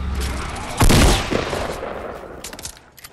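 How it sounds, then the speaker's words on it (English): Gunfire in the video game Fortnite: a loud close burst of rapid shots followed by a scattered echoing fusillade that fades, with fainter distant shots near the end. "There's a guy shooting at me"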